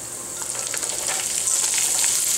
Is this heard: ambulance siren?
no